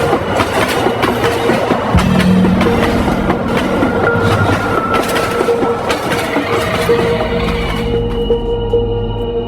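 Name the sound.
train arriving at the platform with a sharp screech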